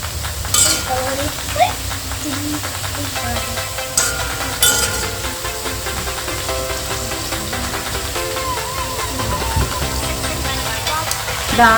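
Banana chips deep frying in hot oil until crispy, a loud, continuous bubbling sizzle close by throughout, with a voice talking over it.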